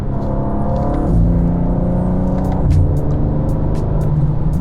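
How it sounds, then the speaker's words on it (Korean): The inline-six engine of a new BMW M2 pulls hard under acceleration, a loud, close, rising drone that drops in pitch at two quick gear shifts before climbing again, with no talk. "이 앞쪽에 있는 직렬 6기통의 파워플랜트가 내고 있는 그 가속시의 소리가 좀 더 볼륨 비중에서 큰 부분을 차지하고 있거든요"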